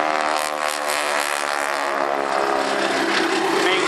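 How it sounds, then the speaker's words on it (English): Propeller-driven aerobatic aircraft flying at a Wales air show, a loud continuous engine drone with steady buzzing harmonics that holds throughout without pause. "The lead aircraft there,"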